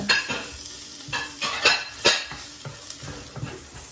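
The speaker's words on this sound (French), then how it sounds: "J'ai fait cuire un petit peu les piments avec les poivrons rouges." Chili peppers and red bell peppers cooking in a pan for a coconut curry shrimp dish, with a soft sizzle under repeated stirring and utensil clinks against the pan, close and moderately loud.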